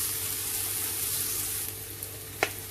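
Steady sizzling of ingredients frying in a pan for dhal puri, a continuous close hiss with a small clink of utensil near the end, no talking.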